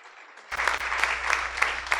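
A church congregation breaks into applause after a faint voice, sustained clapping from a crowd at moderate distance filling the rest of the moment.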